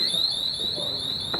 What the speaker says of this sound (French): Il a foutu l'alarme en route.